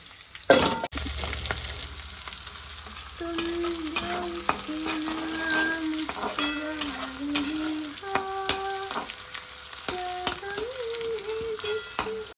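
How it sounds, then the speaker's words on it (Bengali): Broccoli leaves fry with garlic and green chilli in a pan, a steady sizzle with stirring scrapes and clatters of the spatula, heard close up with no talking. "এটা কিন্তু ব্রোকলির পাতা, রসুন আর কাঁচা লঙ্কা দিয়ে ভাজা করে নেবো।"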